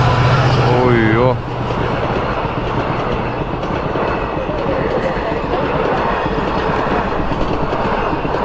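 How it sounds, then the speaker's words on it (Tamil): A train rumbles loud and close past a level crossing on a South Indian coastal road between Chennai and Rameshwaram, steady clattering wagons after a brief horn-like tone at the start. "ட்ரெயின் வருது."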